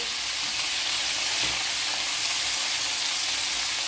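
Salted peppers fry loudly in a pan, a dense, steady, close-up sizzle and hiss with faint stirring underneath and no pauses.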